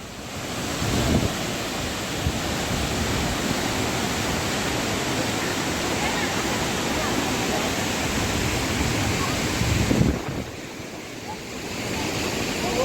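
The tallest waterfall in Chhattisgarh plunges from a great height, its spray drifting on the wind, making a constant heavy roar mixed with gusty wind buffeting, briefly dipping near the end.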